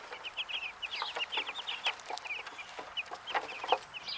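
Young chickens cheep and cluck softly inside a dog crate set in a sunny spot outdoors, a busy stream of high chirps, some overlapping, fairly faint and without any talking.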